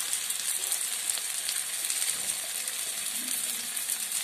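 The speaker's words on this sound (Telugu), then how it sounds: "ఇలా ఫ్రై చేయడం వల్ల అల్లం చేదులాగా అనిపిస్తుంది" Ginger fries in a pan with a loud, continuous, close-up sizzle that holds steady throughout, hissing and crackling without pause.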